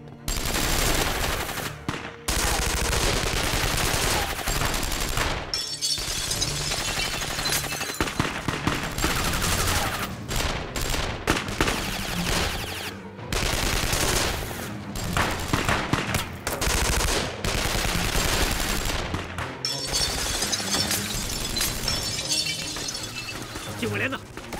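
Bursts of rapid gunfire and shattering impacts fill a Chinese kung fu TV drama battle as a regiment headquarters comes under attack, loud and close, with shouting voices breaking in between volleys.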